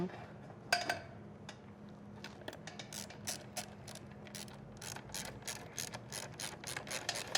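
Ratchet clicking as a fastener on the oil pan of a 2019 Kawasaki Ninja H2 is snugged up, a run of quick, sharp, repeated clicks up close in a quiet shop with a low hum beneath.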